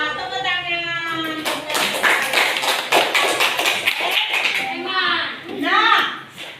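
A classroom of children claps hands together in a burst of rapid, fairly close claps, with children's voices calling out before and after.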